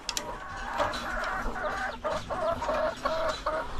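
Dekalb Brown laying hens cluck repeatedly at feeding time in a poultry pen, a busy chorus of short, close clucks and calls rising and falling over several seconds.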